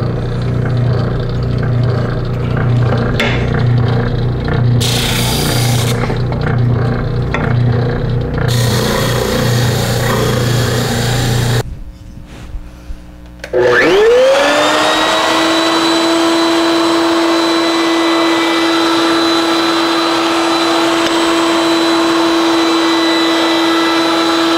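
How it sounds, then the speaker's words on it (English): Spindle sander smoothing bandsaw-cut edges on a wooden top: an oscillating motor hum with rubbing workpiece contact, then a brief drop before the machine restarts and settles into a steady, loud whine. "clean up those cuts we just made at the bandsaw at the spindle sander"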